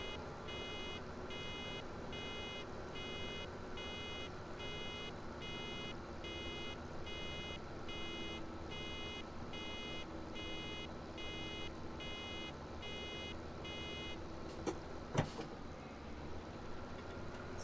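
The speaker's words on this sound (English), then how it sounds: "Slowing the tractor down more and more as soon as it starts to beep like that." A tractor's regular, repeating electronic warning beep pulses steadily over a low engine drone, continuing evenly for the whole stretch, in Farming Simulator 17.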